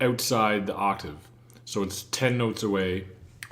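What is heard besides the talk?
No everyday noises stand out.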